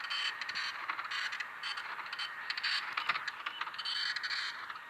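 Printer printing, a faint continuous mechanical whir with soft creaks and scraping rattles, steady throughout, no talk.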